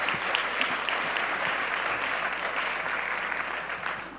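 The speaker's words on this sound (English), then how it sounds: "Let's give another round of applause to Maureen Fan, the president and CEO." A conference audience claps steadily after a keynote talk, a dense, even wash of many hands that stays loud throughout and fades only slightly at the end.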